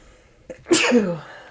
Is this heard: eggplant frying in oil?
no